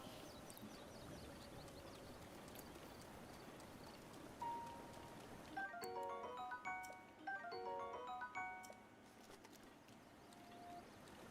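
Faint, steady rain hiss in The Legend of Zelda: Breath of the Wild. It fills the first half alone, then gives way to quiet, plinking musical game chimes.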